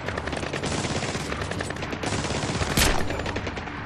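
Dense, continuous gunfire from the Splinter Cell Blacklist video game, a loud, rapid barrage of shots with a sharper, heavier burst near the end and no talk.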